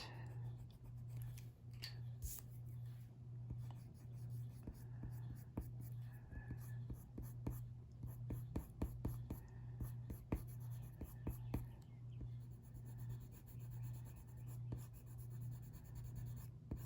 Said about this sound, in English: That's a pencil mark I did not erase very well. Let's get rid of that.